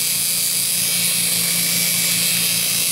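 A belt grinder runs steadily as it sands a damaged fuller, the metal passed evenly across the moving abrasive belt, giving a continuous loud high whine with a low hum beneath, close and without pause.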